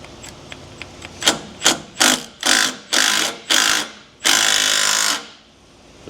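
Impact wrench unbolting the chassis mounts on a 700hp LBZ Duramax during a frame-off restoration: a string of short, loud rattling bursts that grow longer, ending in one sustained hammering run, close up with no talk.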